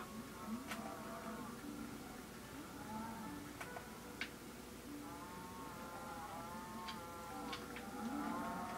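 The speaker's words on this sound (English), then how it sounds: "There's the cows," Blocky cows in the Minecraft video game moo repeatedly in low drawn-out calls, several overlapping across the scene, with a steady ambient game background and a few short higher clicks.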